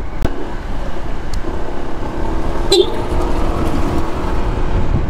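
Honda ADV 160 scooter engine running steadily up close with a continuous motor drone, briefly blipped as the rider gives it throttle, with faint road noise around.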